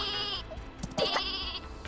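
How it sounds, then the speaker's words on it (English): Sheep weapon from the video game Worms W.M.D. bleats loudly and up close: a long wavering bleat, a short gap with soft clatter, then another drawn-out bleat. "Egan, we can use that sheep if we want to"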